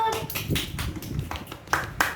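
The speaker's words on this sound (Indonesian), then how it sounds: "Tepuk tangan dulu." A class of children clapping their hands together in a short burst of scattered claps, with a voice and classroom chatter underneath.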